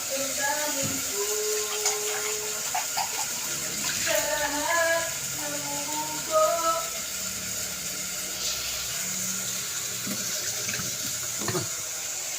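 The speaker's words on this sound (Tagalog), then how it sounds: "Bigyan na po natin siya ng sabaw." Broth is poured into a Filipino vegetable stew, a steady splashing liquid stream running the whole time, close and moderately loud, with a voice talking over it.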